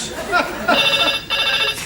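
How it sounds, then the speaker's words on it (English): A telephone bell rings in short bursts, a bright trilling tone that repeats about twice, fairly close and clear. "Phone rang once,"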